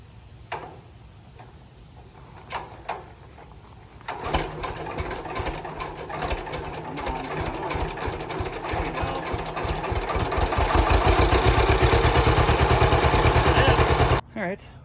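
A John Deere H tractor engine turned over by hand crank, then starting and running, with a few isolated knocks first and then a rapid, loud, steady chugging that builds before cutting off abruptly.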